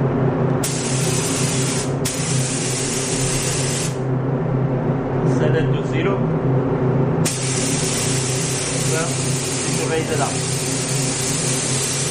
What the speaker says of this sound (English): start spraying